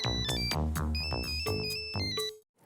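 A mobile phone ringtone plays, a bright electronic melody of stepped tones over a bouncy bass line, loud and close, with no talk over it, then cutting off abruptly near the end.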